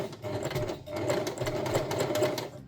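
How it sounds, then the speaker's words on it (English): A sewing machine stitching over a knitted steek to reinforce it, a steady rapid mechanical whir with fast regular needle ticks, close and continuous for a few seconds. "by using my sewing machine for extra security."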